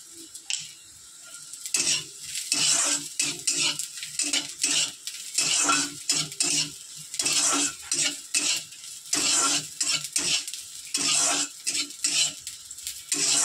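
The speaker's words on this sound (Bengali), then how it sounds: "কালো জিরেটা দিয়ে সামান্য ভেজে নামিয়ে দেবো" Black cumin frying with chili and garlic in a pan, with a steady sizzle under repeated scraping and clinking stirs of a utensil against the metal, close and fairly loud, no voices.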